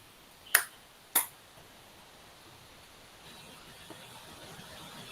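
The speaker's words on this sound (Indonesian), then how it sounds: "Untuk jawabannya kita beri 2 tepuk untuk Kak Margiono dan tadi Kak Anwar ya." Two sharp, distinct claps about half a second apart from a group during an online teachers' training session, each crisp and brief, followed by quiet background hiss.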